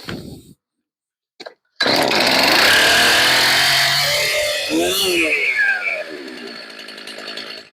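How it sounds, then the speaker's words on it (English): After a brief pause, a chainsaw's small engine catches at half choke and roars to life, revving loudly and steadily before the pitch dips and the engine settles into a lower idle. "And we will start the engine"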